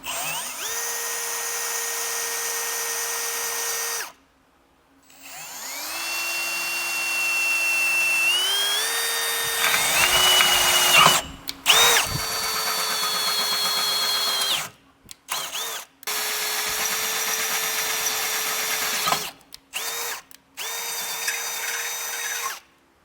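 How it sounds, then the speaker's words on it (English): A power drill with a small bit whines steadily while drilling a pilot hole in a 2026 Ford Escape bumper, pitch rising as it bites in, stopping and restarting several times with brief silent gaps between runs. "come back with a smaller drill bit just to get a pilot hole started"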